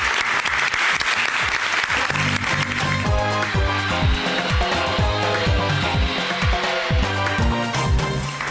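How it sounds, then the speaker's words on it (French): An audience at a French televised talent show claps loudly and continuously for a contestant, the dense applause running alongside rhythmic backing music from start to finish. "on l'applaudit très très fort"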